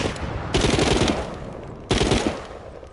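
Pistol fire in the VR zombie game The Walking Dead: Saints and Sinners: two sharp, loud shots about a second and a half apart, each trailing off into a fading echo.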